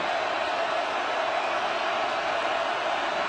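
A college football stadium crowd at USC vs. Washington roars on third down, a loud, steady wall of massed noise that holds without a break from start to finish.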